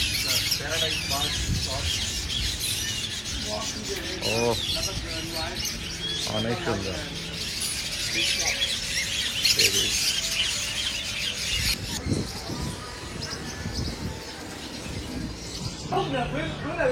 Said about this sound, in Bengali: এই যে এখানে গোল্ডিয়ান ফিন্স দেখতে পাচ্ছি, গোল্ডিয়ান, বাজিগার